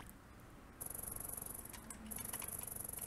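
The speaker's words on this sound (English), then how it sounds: "I think I scared the cat" A cat in the video game Grass Cutter gives a sudden, fairly faint, buzzing purr-like sound with a fast pulsing rhythm that stops briefly and then resumes.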